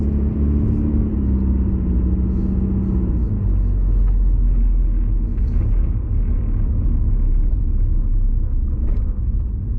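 A car drives through an air force base, its engine a loud, low rumble close by that swells as it accelerates and then settles into a steady road drone with no talk.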